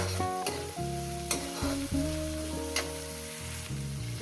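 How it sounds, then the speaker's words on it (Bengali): Chicken curry ingredients frying in a pan until they turn reddish. A loud, continuous sizzle with stirring is punctuated by a few sharp scrapes, and nobody speaks. "এটাকে আমি প্রায় সুন্দর করে আমি ভেজে নেব লাল লাল করে ছ সাত মিনিট ধরে"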